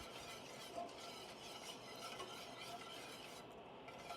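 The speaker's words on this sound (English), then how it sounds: "key here is low and slow and whisking the whole time" A sauce whisked low and slow in a pan for a copycat Carrabba's chicken dinner, a faint, continuous scraping and swishing with light metallic clinks, quiet and without voices.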